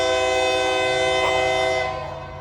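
A push-pull scrap metal freight train rolls past a railroad crossing, close and loud, with a long sustained horn blast sounding throughout before it begins to fade at the end.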